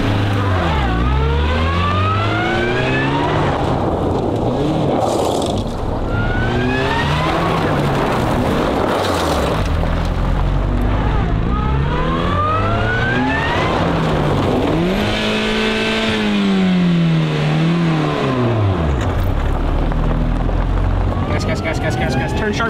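A rally car engine climbs hard at full throttle through repeated rising gear pulls, then drops and rises again, loud and close from inside the car across the whole stretch.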